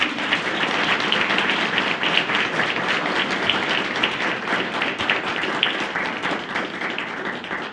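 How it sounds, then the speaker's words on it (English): A crowd at a gala claps steadily and loudly, a dense, sustained round of applause with no voices over it. "I think they all deserve another round of applause."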